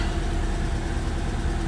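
Volkswagen Polo MK4 engine idling steadily, a low continuous rumble with an even, unbroken drone held close throughout, no voices.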